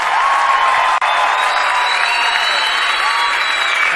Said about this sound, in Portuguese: Eu queria uma salva de palmas para esse coro maravilhoso.